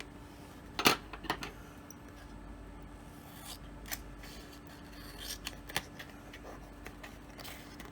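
Double-sided tape being handled for card making: quiet crisp crinkles, snips and taps scattered over the clip, with a sharper cluster near the start and more soft clicks later, faint and close.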